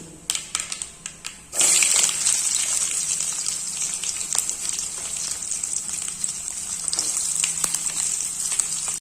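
Chopped garlic and ginger hit hot oil after mustard seeds have popped, giving a sudden loud, steady sizzle that continues close and bright to the end, after a few scattered pops at the start.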